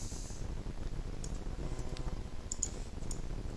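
A computer mouse gives a few light, sparse clicks over a steady background hum, faint and close, with no talk.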